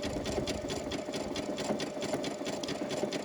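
A quilting sewing machine runs a satin stitch across a quilt at a steady, moderate set speed, producing a continuous, rapid, evenly pulsing needle clatter up close with no talking.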